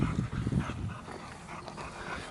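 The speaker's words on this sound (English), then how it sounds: "And there's my two dogs." Two dogs make small soft vocal sounds and stir about, faint and close, with quiet background noise and no talk.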